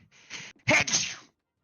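A single sharp sneeze, preceded by a short intake of breath, close and fairly loud in an otherwise quiet senate chamber during a pro-forma session.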